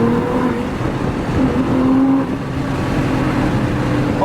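A car sliding sideways at a car meet, gymkhana-style, its engine held high in a steady loud drone with sustained tonal revving throughout.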